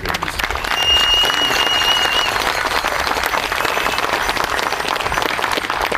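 An audience at a ceremony honoring a chief breaks into full, dense applause, a loud continuous roar of many hands clapping that stays steady throughout, with a faint whistle or cheer rising briefly above it.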